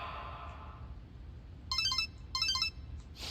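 A mobile phone ringtone in Persona 5 Royal plays two short bursts of bright chiming notes, faint and alone over a low background hum.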